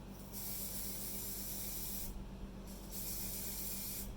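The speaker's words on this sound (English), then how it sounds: "I'm literally just holding it like this and spraying it like this." An aerosol spray can hisses steadily at close range over dried daffodils on a canvas, in three long bursts separated by short pauses.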